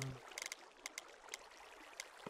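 Flowing water at water wheels in a modded Minecraft world, a faint steady trickling stream with a few soft splashy ticks scattered through it, no talking.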